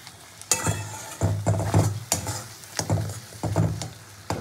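Loitta fish bhorta is stirred and fried in a pan, with repeated scraping strokes of a spatula against the metal over a faint sizzle, arriving in uneven bursts close by.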